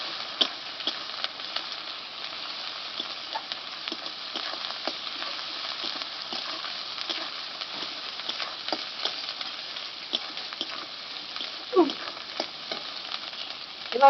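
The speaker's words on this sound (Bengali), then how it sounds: "এবার এটা ভালোভাবে ভেজে নেবো।" Ginger-garlic paste fries in a pan with a steady, close sizzle throughout, broken by light stirring scrapes and ticks.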